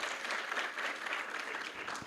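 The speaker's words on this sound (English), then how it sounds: "I think everybody should applaud for the question that he has asked." A conference audience at an international research conference breaks into applause for a question. The clapping is continuous, moderately loud and evenly textured across the brief moment, with no clear speech.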